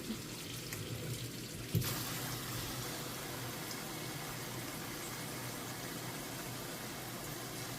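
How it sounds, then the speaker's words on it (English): Hot water running from a kitchen tap into a sink while hand-washing dishes, a steady broadband rushing stream that jumps louder and fuller partway in as the flow hits the basin, then continues evenly. "And turn the hot water on."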